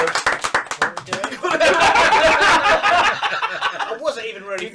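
A small group claps rapidly during a live-streamed birthday party game, a burst of sharp hand claps mixed with chuckles and chatter that fades into talking.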